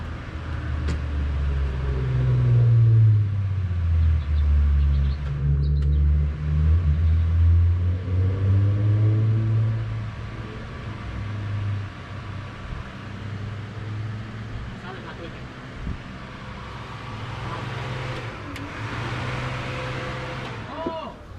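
A Honda B18C1 engine in a DB1 Integra cranks and fires for its first startup, settling into a steady low idle rumble with fluctuating revs, close by, while people talk over it.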